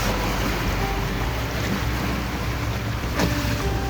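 A sailboat racing on the Solent pushes through waves in building wind, with a continuous loud rush of water and wind buffeting the microphone and no clear breaks.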